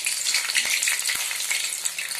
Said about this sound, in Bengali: এইভাবে চেপে চেপে দিলে ভেতরটা পর্যন্ত ভাজা হয়ে যাবে।